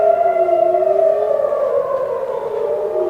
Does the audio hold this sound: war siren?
yes